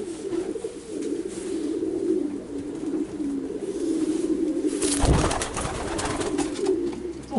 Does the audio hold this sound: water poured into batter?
no